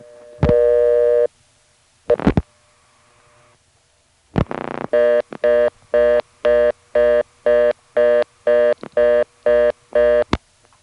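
Tones on a 1976 telephone line in Harrisonburg, Virginia: a single loud tone and a couple of clicks, a short pause, then a fast, even run of about eleven pulsed buzzing tones, with no voices.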